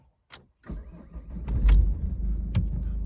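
A Ford Focus engine with 199,000 km cranks and catches, then settles into a steady, close idle with a low rumble and a few short mechanical clicks.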